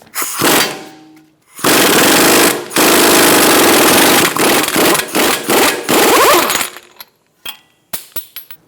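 Impact wrench hammering loose the front axle nut on a 2013-2022 Buick Encore through a 36mm thin-walled socket, a loud, harsh rattle in several long bursts with short pauses, then a few lighter taps at the end.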